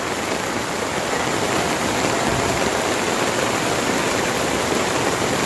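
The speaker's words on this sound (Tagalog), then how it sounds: "Lakas ng alon, oh." Strong waves driven by Typhoon Ramil roar in a constant, dense rushing wash at Dingalan, Aurora, loud and unbroken like heavy surf and wind, with no voices.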